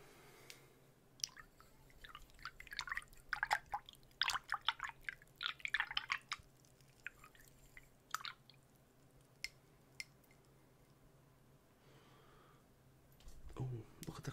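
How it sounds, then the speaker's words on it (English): A paintbrush is rinsed in a pot of water after painting golf balls, giving soft, close swishes, drips and wet squishes in scattered clusters against a quiet room. "Wash the brush off."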